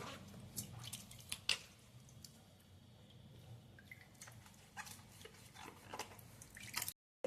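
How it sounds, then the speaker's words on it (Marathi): Quiet splashes and drips of water as raw mangoes are rinsed by hand, with scattered small sloshes and trickles close by. "ते आधी आपण स्वच्छ धुवून घेणार आहोत।"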